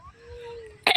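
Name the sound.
cough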